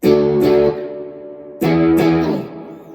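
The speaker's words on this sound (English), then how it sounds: "I got this guitar plugged in with distortion drive kicked in" Two loud distorted electric guitar chords from a Tease ST-1 guitar ring out, each sustaining and decaying, the second struck after a short pause.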